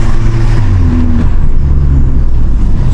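A VW Golf GTI MK5 with a DSG gearbox drives hard along a country back road, its engine droning loud and steady from inside the car the whole time, with no voices.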